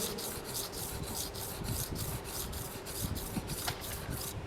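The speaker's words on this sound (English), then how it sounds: "We have to rub like this." A copper metallography specimen rubbed back and forth on low-grade abrasive paper, giving a rhythmic scratchy rasp repeated in regular even strokes, close up and alone.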